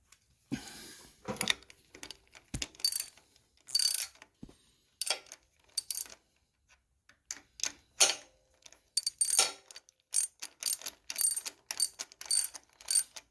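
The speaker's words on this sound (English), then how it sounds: "Get the ratchet turning the right way first" A hand ratchet tightens a nut on a Cletrac HG-68 12-volt starter, clicking in quick bursts of rapid ratchet ticks with short pauses between strokes, close up and alone.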